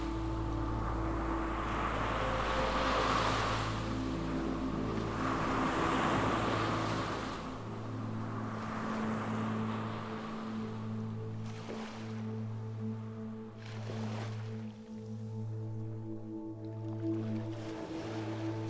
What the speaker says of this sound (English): listen to how the waves and air begin to calm